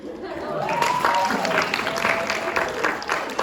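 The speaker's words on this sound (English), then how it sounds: "Keep clapping, because we done reached the end." Steady applause from an assembly audience at the end of the gathering, a dense wash of clapping throughout with a voice speaking over it.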